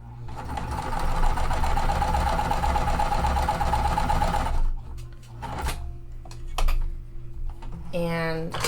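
Quilt pieces run through a sewing machine at a scant quarter-inch seam, a steady close whir for about four and a half seconds before it stops, leaving quiet handling noises and a little talk.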